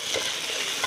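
Spices are stirred and fried in a pan for a chicken kacchi biryani, giving a brief, close, continuous sizzle with light scraping.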